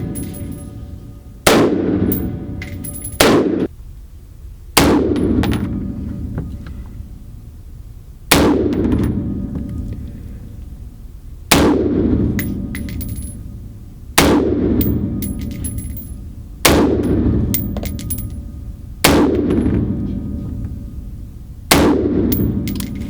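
Single gunshots fired at a target at a shooting range, about eight loud sharp reports spaced a few seconds apart, each ringing out with a decaying tail, some in quick pairs.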